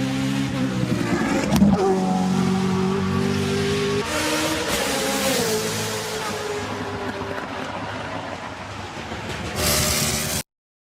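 Car engine revving with a tuned, burbling exhaust note, a continuous loud roar rising and falling in pitch with a crackly burst near the end, no one speaking.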